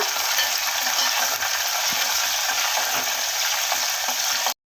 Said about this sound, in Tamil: அந்த எண்ணெயிலே நல்லா மொறு மொறுன்னு வேகட்டும் கருவேப்பிலை